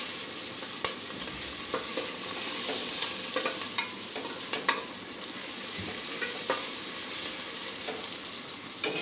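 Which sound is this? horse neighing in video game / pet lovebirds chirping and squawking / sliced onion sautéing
sliced onion sautéing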